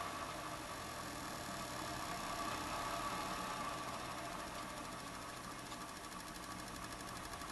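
An electric milk float motor spins steadily under PWM drive, giving a continuous whining, buzzing hum with a high tonal whine over broadband noise, even in level and unbroken throughout.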